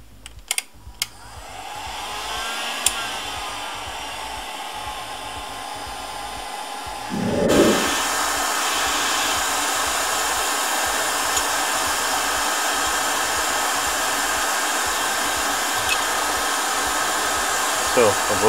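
A hot air blower heats a ceramic CPU to open it, starting with a few clicks and handling sounds, then a steady loud whooshing roar that runs on without a break.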